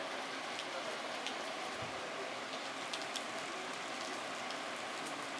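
Steady, dense rain falls during an outdoor yoga class, an even hiss of drops hitting surfaces that holds constant throughout, with no clear voices above it.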